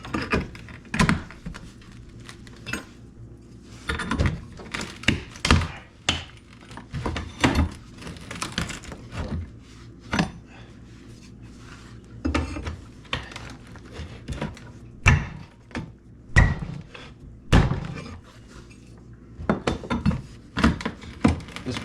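Old 140-year-old hardwood maple floorboards are pried and hammered, giving irregular sharp knocks and woody thunks in clusters, with quieter scraping between the blows.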